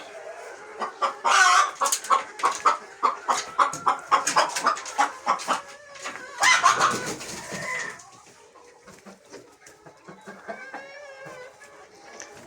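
Backyard hens cluck in a rapid, rhythmic series of close, loud calls, with a burst of louder squawking around the middle before the clucking settles into softer, quieter murmurs.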